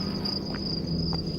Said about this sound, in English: Sound of just crickets and stuff in the distance